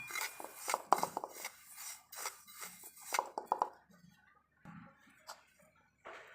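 Fine spices roast in a kadai over a very low flame, a spoon scraping and clinking against the metal in irregular, fairly quiet strokes with short pauses between them.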